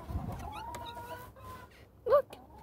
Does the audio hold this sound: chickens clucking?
yes